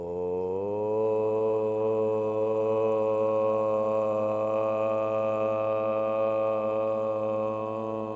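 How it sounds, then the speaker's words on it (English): A group in a yoga class chants a single sustained Om together, the blended voices holding a steady, resonant drone for several seconds at an even loudness with no speech. "Together the sound of Om."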